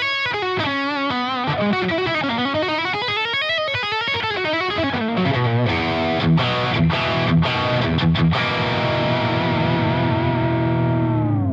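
Heavily saturated electric guitar lead from the bridge humbucker through a Brunetti Mercury 50W amp head with boost engaged, a fluid run of sustained bends and legato notes ending on a long ringing chord, loud and alone.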